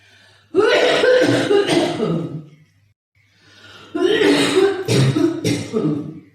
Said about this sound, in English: Now we're going to cough.